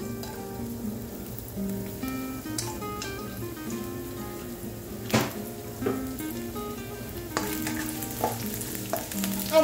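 Finely chopped garlic frying in sunflower oil in a pan gives a steady, close crackling sizzle like light rain, punctuated by a few sharp clinks and scrapes from a stirring utensil.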